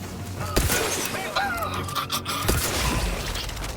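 Gunfire in Outer Worlds 2 aimed at enemy healing boxes, with several sharp shots and shattering impacts at irregular intervals amid the noise of a firefight.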